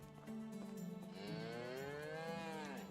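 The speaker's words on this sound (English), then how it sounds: "No, cows." Cows in a video game village moo in a long, drawn-out, wavering low call, clear and close over faint background game ambience with no speech.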